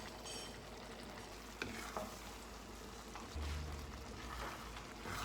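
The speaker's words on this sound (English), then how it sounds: "Just keep getting stock to it and keep stirring it." Shrimp risotto with stock being stirred in a pan, a faint, close sizzle and bubbling with soft scraping strokes of the spoon and a few small clicks.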